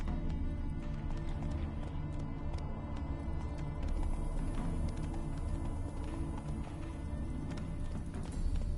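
Horse galloping in The Witcher 3 video game: a continuous drumming of hooves at a fast, steady pace, close and fairly loud, with no talking over it.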